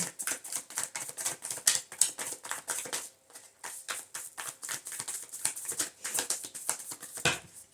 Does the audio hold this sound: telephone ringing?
no